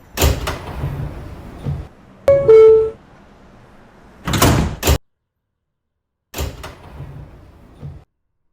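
The sliding doors of an R160B subway car close with a sharp two-note chime and a heavy thud. Rumbling motion noise and further door bangs follow, loud and close, with no talking.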